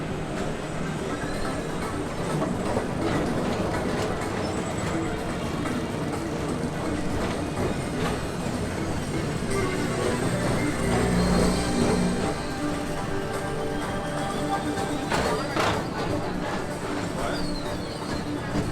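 Tomorrowland Transit Authority PeopleMover cars gliding along their track at Magic Kingdom at night, a continuous low rolling rumble with faint clicks and a brief swell midway, under a faint voice.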